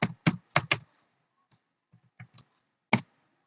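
Code is typed on a computer keyboard in a quick burst of four crisp keystrokes, followed by a few sparser, softer taps with short pauses between them, close and clear in a quiet room.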